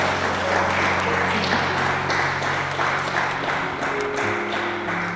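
A church congregation gives sustained applause, a dense steady wash of many hands clapping throughout, with a low hum and faint voices underneath.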